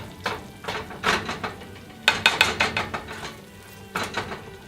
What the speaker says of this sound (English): let's stir this up a little bit